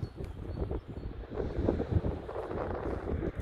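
Gusty wind buffeting the microphone, a low rumbling roar that swells and fades without any speech.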